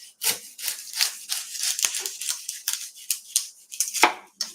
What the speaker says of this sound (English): I'm gonna start by chopping my onion.